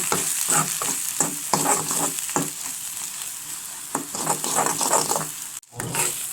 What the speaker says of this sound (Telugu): ఇలా మంచిగా 2 నిమిషాలు కలుపుకోవాలి. ఫ్రై చేయాలి.